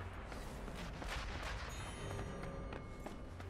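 Gunshots in the Sniper Elite V2 video game, a dense run of cracking shots and booms over a constant rumbling battle bed, fairly loud throughout with no talk.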